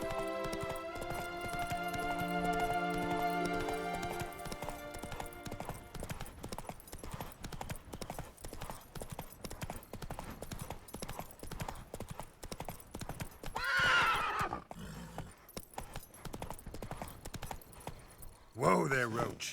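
Roach, a horse in The Witcher 3, clip-clops along at a walk, hooves thudding steadily with music at first, then gives two loud whinnies near the end; a voice speaks briefly in between.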